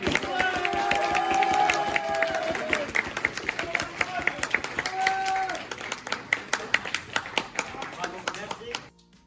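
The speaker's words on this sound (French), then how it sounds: "un tonnerre d'applaudissements" Audience applause at a gaming festival event, clapping and crowd noise under a speaker's voice, thinning into scattered individual claps toward the end.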